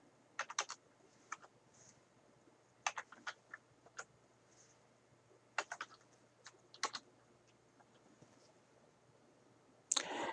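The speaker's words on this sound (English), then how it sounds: "I'm going to randomly type in some numbers here between 15 and" Numbers tapped out on a computer keyboard in short irregular bursts of crisp key clicks with quiet gaps between, close and fairly soft, with no talking.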